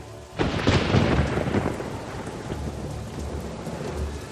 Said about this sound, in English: And the rain was on the earth 40 days and 40 nights.